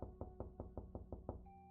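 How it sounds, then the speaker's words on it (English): Seven quick, even knocks on a front door sound in a sharp, close rhythm, each thud clear and alone before a faint high tone lingers at the end. "you hear weirdly a knock on the front door to this unit that you have crashed into"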